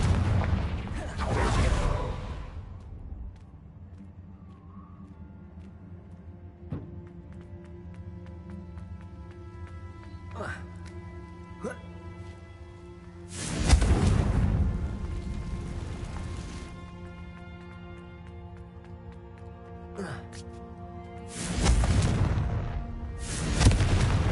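Spell explosions from Confringo blasts in the Hogwarts Legacy game, three loud booming bursts at the start, middle and end, each rumbling out over a sustained musical and ambient backdrop.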